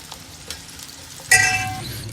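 Onions hit hot oil with whole spices in a pot, a sudden loud burst of sizzling after a quiet stretch of faint clicks, then settling into a steady crackle.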